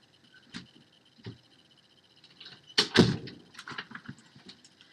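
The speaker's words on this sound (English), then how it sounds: "Oh, let me close my door." A bedroom door swings shut nearby with a sharp thud and a short rattle of the latch, set off by a few smaller knocks before and after in an otherwise quiet room.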